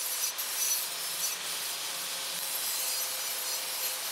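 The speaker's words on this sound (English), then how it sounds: "you will most likely need to grind the tubes down a bit to get them to fit" Steel tubes being ground down to fit a workshop fabrication table, giving a close, continuous abrasive hiss that holds steady with no pauses.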